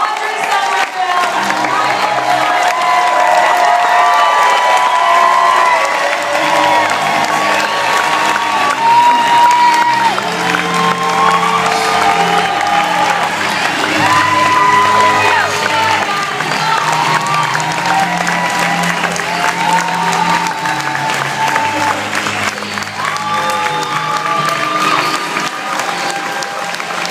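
A standing audience at a ViSalus product workshop in Los Angeles claps and cheers loudly, with whoops and screams in one dense, continuous roar of applause that lasts the whole time.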